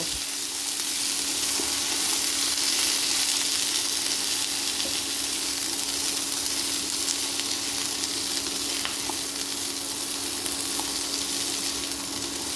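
Paneer and vegetables being stirred in hot oil for paneer navaratna, giving a steady, loud, unbroken sizzle with faint scraping mixed in throughout.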